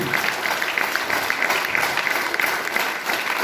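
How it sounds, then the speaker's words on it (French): Audience at a choral concert in a hall applauding loudly, a dense and steady patter of many hands clapping that fills the room from start to finish with no voices above it. "je pense qu'on peut applaudir très très fort les personnes qui étaient là présentes ce soir"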